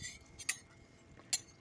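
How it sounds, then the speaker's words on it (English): Metal spatula scraping around the edge of a pan of slow-cooking roast garlic potatoes on an off-grid stove, two short bright scrapes about a second apart over quiet background. "Take the spatula, tease around the edge"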